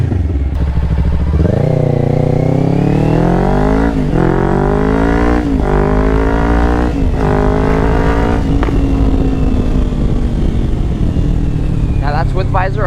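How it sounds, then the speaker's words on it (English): A 2024 Kawasaki Ninja 500 SE fitted with a Yoshimura AT2 full exhaust accelerates through several gears, each upshift marked by a rising engine note, loud and close, with wind noise as it cruises. "So we'll go down the strip pretty quick and see how this exhaust sounds."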